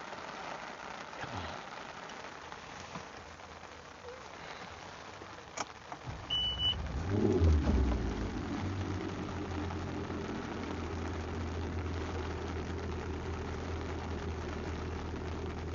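Steady rain pours down outdoors at a bass fishing tournament on the Clarence River, starting light and swelling into a heavy, continuous roar, with a low engine-like rumble beneath.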